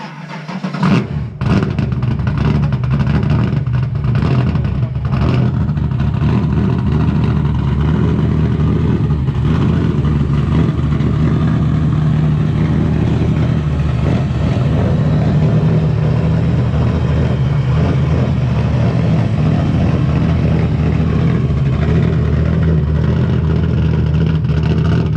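Loud, continuous engine roar at a car meet, a powerful car idling and revving nearby with a dense low rumble and a few sharp throttle blips near the start, steady for the whole stretch.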